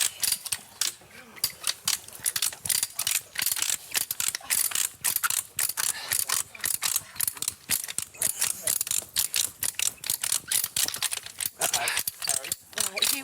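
A calving jack on a farm is wound forward with rapid, loud ratcheting clicks that repeat steadily throughout, close to the microphone, with a voice speaking at points.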